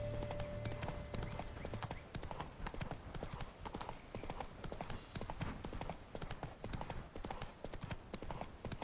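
Roach the horse trots along in The Witcher 3, hooves clip-clopping in a steady, quick rhythm throughout, with a brief whinny at the start and faint game ambience underneath.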